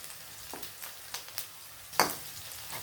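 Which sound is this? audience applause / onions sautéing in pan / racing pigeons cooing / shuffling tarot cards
onions sautéing in pan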